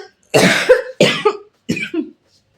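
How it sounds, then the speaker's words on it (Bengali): A person coughs indoors at home in three separate bursts, each a rough, fairly loud double hack, with short silences between them and no other sound. "কি যে কাশি"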